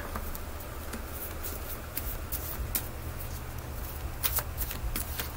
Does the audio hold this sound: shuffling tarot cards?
yes